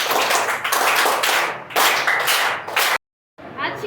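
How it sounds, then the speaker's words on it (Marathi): A classroom of school students clapping during a school education week event, several loud bursts of close, dense applause separated by brief pauses and one short silent gap. "त्याच्यासाठीही टाळ्या सर्वांनी वाजवा."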